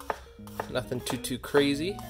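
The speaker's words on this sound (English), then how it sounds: "So I'm just going to slice it fairly thin." Knife slicing garlic thinly on a cutting board, a few crisp chopping taps mixed in with someone talking throughout.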